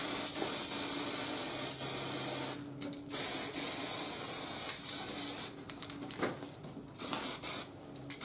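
Aerosol spray paint hissing onto fender riser brackets for an Africa Twin CRF1000L motorcycle, a continuous close spray followed by several short bursts with brief pauses.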